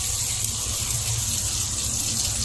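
Ginger sizzles in hot oil in a wok as lamb stir-fried with scallions is being cooked. The frying hiss is steady and loud, close and unbroken throughout.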